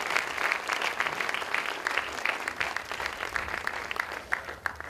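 An audience claps steadily at a school concert, a dense hall-filling round of applause that holds at an even level for the whole stretch.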